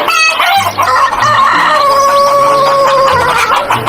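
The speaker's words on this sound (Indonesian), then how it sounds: "ayam jago." A toy rooster plays its electronic crowing call, a loud, close, drawn-out cock-a-doodle-doo with clucking around it, heard alone for a few seconds.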